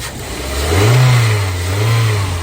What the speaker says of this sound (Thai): นี่คือเครื่องยนต์สตาร์ทอยู่นะครับ